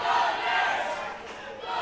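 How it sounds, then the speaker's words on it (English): A theater crowd at WORKPLAY Theater roars and cheers for a wrestler during a tournament championship final, a dense, loud swell of many voices with shouts, sustained throughout. "As the crowd here at WORKPLAY Theater coming alive for Pha'Nesse"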